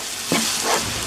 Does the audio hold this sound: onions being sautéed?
yes